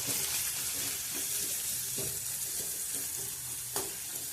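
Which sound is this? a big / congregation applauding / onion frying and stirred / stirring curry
onion frying and stirred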